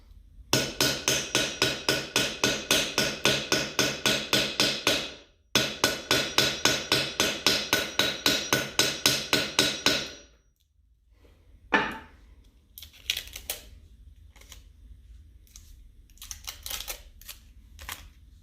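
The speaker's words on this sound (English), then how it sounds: "I tape it down so that it won't move while I'm hammering it" Rapid metal hammering stamps a pattern into a metal cuff bracelet, steady sharp taps in long bursts for about ten seconds, then slower, sparser strikes after a pause, close and clear.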